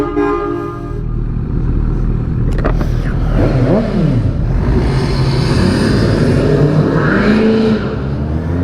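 A Suzuki GSX-S 750 motorcycle with its exhaust refitted revs loudly and close by, its engine note rising and falling in sweeps over a steady rumble, with a brief sharp burst partway through.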